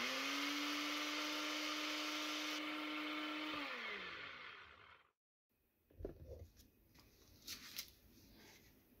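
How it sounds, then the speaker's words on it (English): A Nutribullet food processor grinds spent grain into flour with a loud, steady whirring drone. Its pitch holds and then winds down, and after a pause come faint clattering and shuffling sounds. "I'm going to put it in the food processor. This is a Nutribullet."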